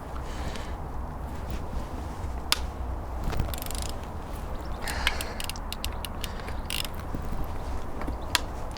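Metal bolts being undone on a Triumph Spitfire engine during a strip-down, heard as scattered ticks, clicks and ratcheting taps close by over a steady low workshop rumble.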